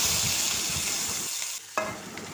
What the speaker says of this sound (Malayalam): നമുക്ക് ഈ ചട്ടിയിൽ തന്നെ ഉള്ളി തക്കാളിയൊക്കെ വഴറ്റിയെടുക്കാം